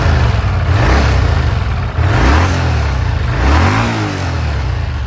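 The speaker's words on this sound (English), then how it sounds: "The bike's engine loves to rev." Honda CX500 motorcycle, a 500cc bike, loud and close as its engine revs up and drops back in several rising and falling surges over a steady idle, with no talking.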